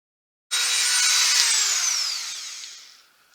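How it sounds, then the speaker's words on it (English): A Dremel rotary tool cuts an opening for a DIY lamp, starting abruptly with a loud, high whine that holds steady, then slowly drops in pitch and fades as the tool winds down. "I will use my Dremel tool to cut it out"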